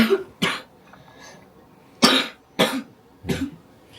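Several separate coughs, close and fairly loud, spaced irregularly with quiet gaps between them.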